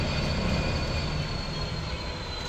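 A British Class 66 diesel locomotive rolls along street-running track through a busy road in Poland. The loud, steady engine rumble and wheel noise come from close by, with no talk.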